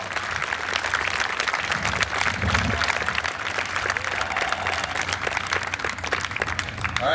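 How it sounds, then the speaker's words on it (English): Outdoor audience at a New York State Police Underwater Recovery Team demonstration claps for the divers, a steady patter of scattered hand claps with low rumble beneath, moderately loud and continuous. "So I'd just like to give them a round of applause and appreciation for the hard work that they do all year round."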